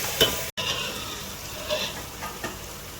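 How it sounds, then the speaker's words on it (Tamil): Onions frying with ginger and garlic paste in a pan for green mutton biryani, stirred steadily: a continuous close sizzle with soft scraping strokes of the spoon and a brief dropout partway through. "இந்த இஞ்சி பூண்டு வாசனை போகிற வரைக்கும், வெங்காயம் நல்லா கோல்டன் ப்ரௌன் ஆகிற வரைக்கும் நம்ம நல்லா ஸ்டர் பண்ணிகிட்டே இருக்கணும்"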